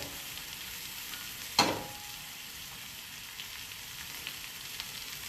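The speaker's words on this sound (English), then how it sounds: "And just wilt those greens." Leafy greens wilt in a pan on low heat with a faint, steady sizzle and one sharp clank of a utensil against the pan early on.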